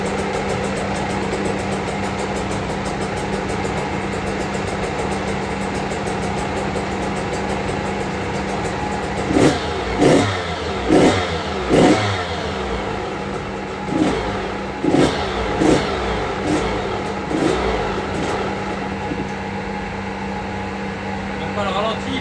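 A 2021 KTM 85 SX dirt bike on a test stand runs steadily, then gives a series of sharp throttle blips, revving up and dropping back repeatedly, loud and close, with speech in the background.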